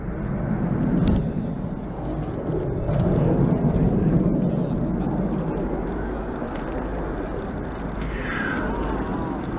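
Red Arrows jets at a 2018 airshow, a broad distant roar from aircraft approaching in a steady wash that swells gently, with crowd ambience beneath.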